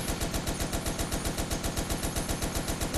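Gunfire in the video game Toy Soldiers War Chest: a loud, continuous stream of rapid, evenly spaced shots hammering away for the full three seconds with no pauses.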